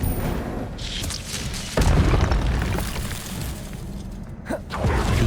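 Expelliarmus spell blast in Hogwarts Legacy on the Switch, a loud booming impact with shattering crackle, followed by a second heavy thump and rumbling game noise.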